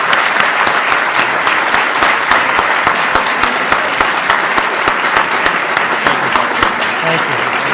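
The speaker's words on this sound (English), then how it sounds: "let's give a very strong round of applause to both our speakers today." Strong round of applause from a seated audience at a clean energy jobs talk, thick continuous clapping for both speakers, loud and sustained with sharp individual claps standing out and no talk over it.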